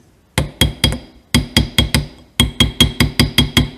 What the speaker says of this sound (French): Je vais me servir d'un marteau plat, assez plat